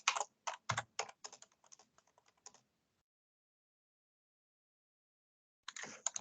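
Code being typed on a computer keyboard, a close run of quick crisp key clicks that fades out, a few seconds of silence, then another short burst of typing, no talking.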